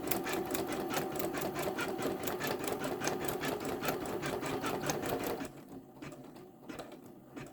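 A Janome Memory Craft 10001 embroidery machine stitches a scarecrow design with a steady, rapid, close mechanical chatter that stops abruptly near the end, leaving quieter faint clicks.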